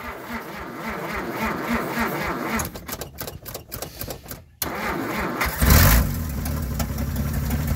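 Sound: 1947 Dodge six-cylinder flathead engine cold starting

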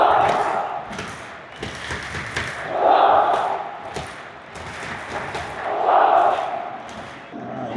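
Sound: football stadium crowd cheering

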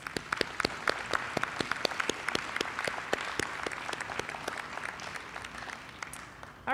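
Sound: applause from students

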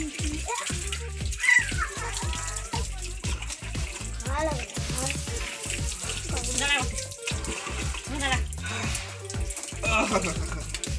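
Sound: water poured while bathing a child

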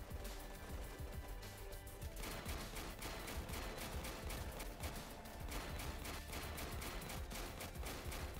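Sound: gunfire shooting bullets in video game Warpips

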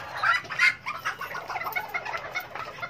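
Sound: serama bantam chicken clucking

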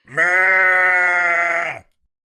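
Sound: sheep bleating

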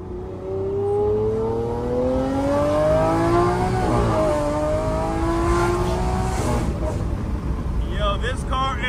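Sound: SV sports car engine revving and accelerating

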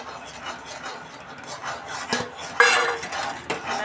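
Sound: stirring roasted peanut powder into sugar syrup

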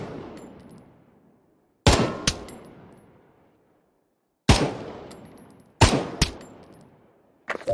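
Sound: gunfire at targets in Pavlov VR video game

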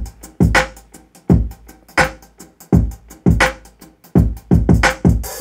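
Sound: layered drunken-timed hi-hat drum pattern in Logic

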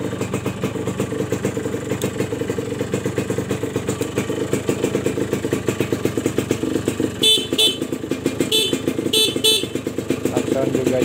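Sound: horn of a Suzuki Satria 2-stroke 120R motorcycle

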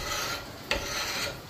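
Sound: scraping varnish off an axe handle with a steel scraper

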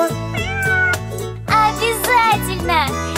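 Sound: cat meowing, in a children's cartoon

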